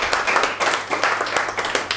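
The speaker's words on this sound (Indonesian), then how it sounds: "Berikan sorak-sorai buat Tuhan Yesus." A church congregation claps steadily and loudly in a dense, continuous burst of applause, with no talking over it.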